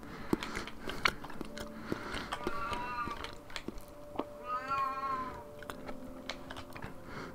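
Cat named Luther meowing, annoyed at being shut out of a bathroom, two drawn-out rising meows among scattered clicks, tapping and chewing-like crunches nearby.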